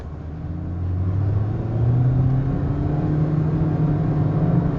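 A 2010 Toyota Allion accelerates hard from a standstill to 60 mph, its engine drone climbing steadily in pitch through the gears, loud and continuous with no voices over it.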